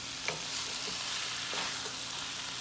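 Vegetables frying in a pan for ackee and saltfish, a steady close sizzle with a few soft stirring knocks of a utensil against the pan.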